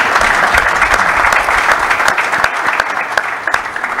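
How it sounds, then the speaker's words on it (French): An audience at a book launch event applauds warmly, a dense burst of clapping that thins out slightly toward the end. "Des applaudissements nourris, s'il vous plaît."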